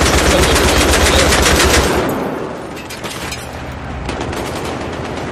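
Loud automatic gunfire from the video game Battlefield 3 rattles in a dense burst, then eases into lighter scattered shots with an echoing tail, close and with no talking.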